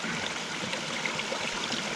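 Spring water flows out of a woodland rock formation along a ridge, a steady, even trickle and babble that is close and continuous, with no voices.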